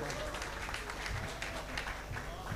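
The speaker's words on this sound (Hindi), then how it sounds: "ज़ोरदार तालियों के साथ उनका इस्तकबाल करें।" Audience applause welcoming a visiting poet from UP at an All India Mushaira in a Nagpur celebration hall, faint, steady clapping from a crowd with voices beneath.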